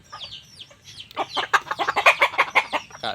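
A bantam hen clucks close by in a free-range yard, a few soft calls building into a quick run of louder, rhythmic clucks.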